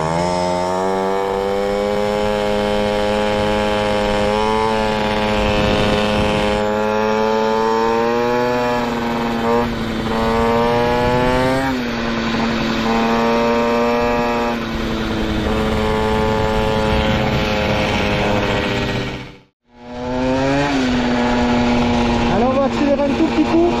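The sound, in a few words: Peugeot 103 SPX moped engine revving with exhaust extension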